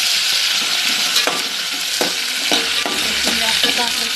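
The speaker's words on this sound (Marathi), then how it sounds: "बघा मी आता डाळी फोडणीमध्ये टाकून घेतले आहे" Dal tipped into hot tempering oil for palak dal sizzles loudly and steadily, with a spoon scraping and stirring through it in repeated strokes close by.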